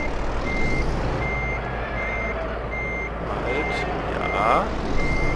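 A truck in Euro Truck Simulator 2 reverses, its backup alarm repeating evenly spaced beeps over a loud, steady engine drone, with a brief air hiss near the end and someone speaking briefly.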